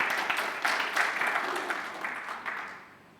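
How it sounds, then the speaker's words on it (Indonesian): Congregation at a Sunday church service applauding briefly, moderately loud clapping that fades out over a few seconds. "Berikan tepuk tangan"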